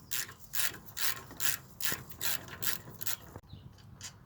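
A ratchet turns a rusty brake caliper bolt on an Audi A6 with rapid, rhythmic clicking strokes, about eight close bursts in a row before a pause and a final fainter click.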